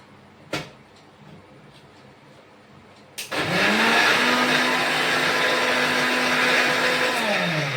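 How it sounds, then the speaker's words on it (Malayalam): An electric mixer grinder blending ragi starts up after a brief knock and then whirs loudly and steadily at close range, a continuous motor drone with grinding texture that runs to the end. "അപ്പൊ നമുക്ക് മിക്സിയിൽ അടിച്ചെടുക്കാം കേട്ടോ"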